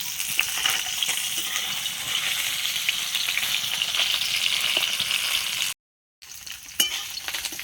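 Singhi fish frying in hot mustard oil, a loud dense crackling sizzle with stirring scrapes, broken by a brief silent gap before the frying resumes.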